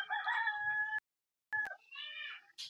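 A Sonali rooster crows loudly and close on a farm where the chickens graze on green grass, two drawn-out calls split by a short silence, with a brief cluck at the end.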